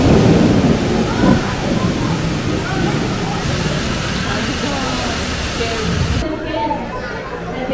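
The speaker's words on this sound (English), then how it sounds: "It's gonna be a huge thunder and rain." Simulated heavy rain pours down with rolling thunder rumbling through it at an aquarium exhibit, loud and steady, cutting out abruptly near the end.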